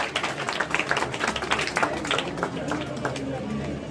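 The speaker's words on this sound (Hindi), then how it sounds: "एक बार समीक्षा के लिए जोरदार ताली बजाएं" An audience claps dense, steady applause at a retirement ceremony for teacher Lakshminarayan Gupta. The fast, rolling claps fill the hall at moderate volume, with voices mixed underneath.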